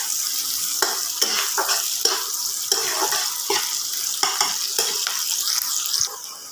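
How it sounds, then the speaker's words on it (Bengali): Green chillies and onions sizzle steadily in a hot pan, stirred with repeated scraping strokes of a spatula at close range, with no talk. "কাঁচা লঙ্কা ও পেঁয়াজ ফোড়ন দিয়ে দেব। ভালোভাবে নেড়ে চেড়ে ভেজে নিতে হবে।"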